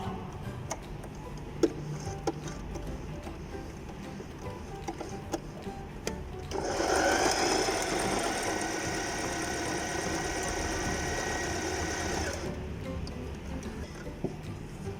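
A Janome 508 domestic sewing machine stitches a buttonhole, starting partway through with a steady close whirring hum and rapid ticking needle rhythm for about six seconds before stopping, with quiet clicks and handling noises around it.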